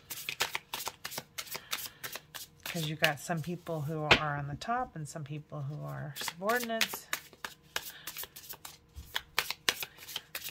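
An oracle card deck from The Untamed Elemental by Tasya van Ree being shuffled by hand, a steady run of quick papery riffles and slaps throughout, continuing under a person speaking in the middle.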